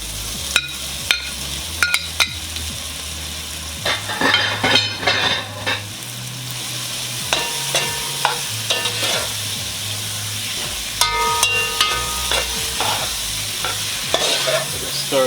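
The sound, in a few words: sausages and vegetables frying in a pan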